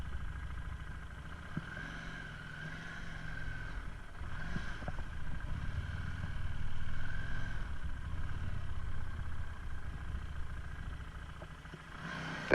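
A 2018 Harley-Davidson Street Rod with the Revolution 750 engine runs steadily under a continuous hum, swelling gently as it gains speed and then easing off. It is heard on a test ride with wind in the background and no one speaking.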